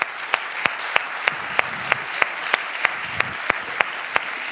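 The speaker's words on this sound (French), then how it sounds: "On peut les applaudir." An audience applauds the panel speakers at a Google round table on retail technology. Steady, moderately loud applause fills the whole stretch, with sharper individual claps standing out at a regular pulse, and no talking.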